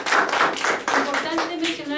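Clapping from a group of hands at a school eyeglasses handout event, steady and fairly close, with voices talking and calling out over it throughout.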